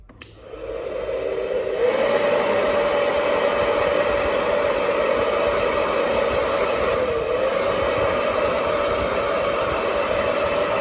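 A hair dryer drying a beach painting, switching on with a rising whoosh and then blowing a loud, steady roar with a constant whine, close and uninterrupted.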